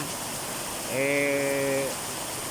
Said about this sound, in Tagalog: Bumuhos pa ng malakas.